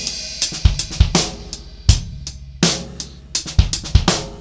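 A drum kit plays a fast linear triplet beat, with kick, snare and cymbal strokes falling in quick, uneven succession, close and punchy with no talking.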